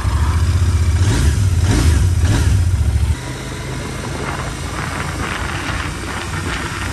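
A motorcycle engine revs loud and close for about three seconds, then cuts out, leaving a quieter wash of background noise.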